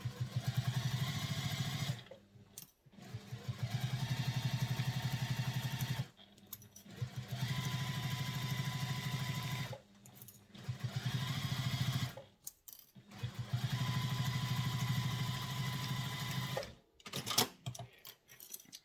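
A sewing machine stitches one of the heaviest seams of a handbag: long runs of fast, steady mechanical whirring and needle rattle, stopping and restarting several times with brief silent gaps and a short back-stitch burst near the end.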